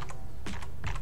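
Computer keyboard typing: three short bursts of key presses about half a second apart, fairly close and clear with no talking, over a low steady hum.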